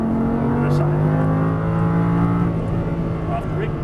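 Audi R8 sports car accelerating hard on a race track, its engine roaring loud and close with a steady rising drone, while a driving instructor talks over it throughout.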